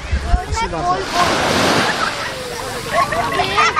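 Sea waves washing in at Girgaon Chowpatty beach in Mumbai, a steady close surge and wash of surf with wind buffeting the microphone and a voice talking.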